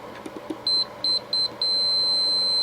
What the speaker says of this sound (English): So we'll see if our meter beeps for us here.